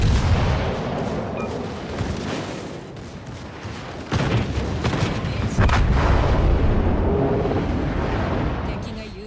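Video game gunfire with sustained booming shots and rumbling blasts during a firefight near the end of a match, loud and dense throughout.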